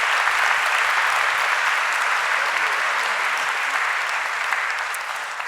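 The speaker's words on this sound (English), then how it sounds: "How about another round of applause for them?" Sustained applause from a large audience, steady and dense clapping throughout, tapering slightly at the end.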